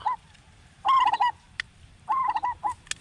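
Repeated bursts of a zebra dove call played as a lure, two clear phrases of several quick cooing notes with short gaps between, fairly close and loud against quiet background.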